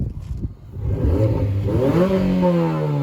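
A Mini Cooper engine revs up from idle, its pitch rising and holding in a steady, loud drone close by.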